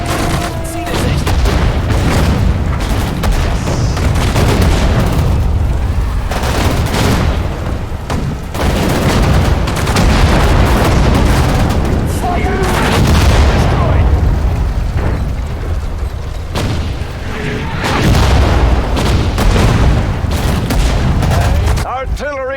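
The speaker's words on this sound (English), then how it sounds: "Artillery strike incoming." Artillery strike explosions boom and rumble in the World War II strategy game Sudden Strike 4, set at Dunkirk, a dense, loud barrage of blasts and crackling bursts that goes on throughout, with voices heard in between.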